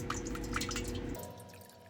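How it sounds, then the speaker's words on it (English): Distilled water trickles and drips into an electrolytic silver cell, a bubbly liquid patter that stops partway through and leaves a quiet hum. "Let's add some distilled water."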